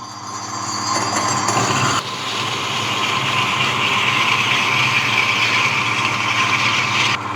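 An electric coconut grater machine grates coconut halves with a loud, continuous motor whir and rasping scrape, heard close and unbroken with no talk.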